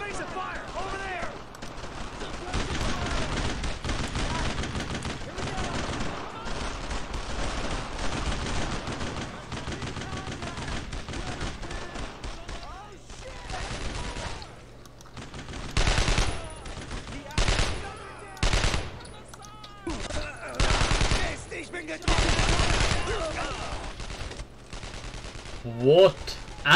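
Gunfire rattles through a Brothers in Arms: Road to Hill 30 battle, dense rifle and machine-gun bursts in long continuous volleys, then choppier separate bursts later, loud and near, with someone talking over parts of it.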